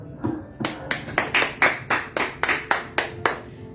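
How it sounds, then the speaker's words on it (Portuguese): A church congregation claps together in a steady rhythm, about a dozen crisp, evenly spaced claps ringing close and loud with a slight room echo, no voices. "Aplauda o Senhor."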